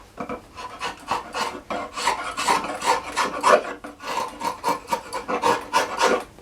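A rasp working yew heartwood while shaping a billet bow limb: a steady, rhythmic scraping of repeated rough strokes back and forth, close and continuous throughout.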